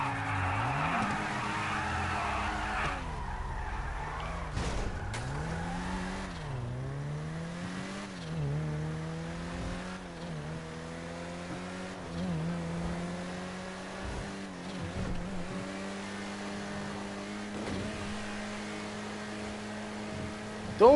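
A Nissan GT-R in the racing game Midnight Club: Los Angeles, its engine droning and pitching up and down steadily, with tire skids and brief impact thumps mixed in, loud and continuous throughout with no talk.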